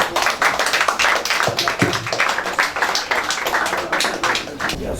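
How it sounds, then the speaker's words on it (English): Loud applause from an audience at a school robotics competition finale, dense clapping filling the whole stretch close and steady. "It's a round of applause."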